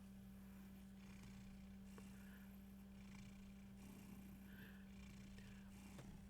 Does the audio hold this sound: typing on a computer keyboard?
no